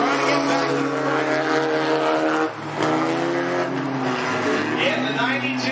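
Race cars at Cottage Grove Speedway roaring around the oval in a steady, loud engine drone that dips briefly and then swells again, with an announcer calling the race over the noise.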